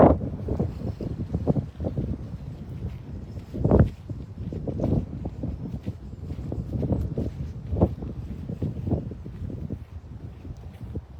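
Gusty wind buffets the microphone in low rumbling bursts, with a few stronger gusts rising and falling throughout.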